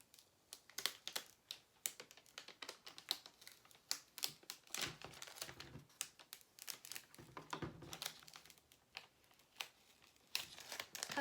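Chalk-painted transfer paper is peeled back from a wooden farmhouse sign in a series of quiet, irregular crinkling and tearing bursts, close up and soft, with no talk.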